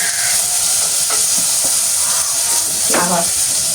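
Fenugreek seeds sauté in a pan for a fish curry, a constant hiss with brief spoon scrapes and clinks close by, no one speaking.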